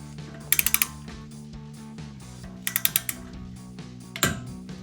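A ratcheting torque wrench tightens a 10mm bolt on a Mustang EcoBoost rear brake caliper, giving short bursts of quick ratchet clicks, near and clear, with a louder click near the end.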